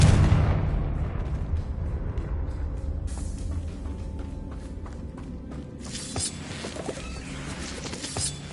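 A Confringo fire spell explodes in Hogwarts Legacy, opening with a loud rumbling blast that decays into a crackling, sustained roar, with sharper cracks and bursts of magical sparkle toward the end.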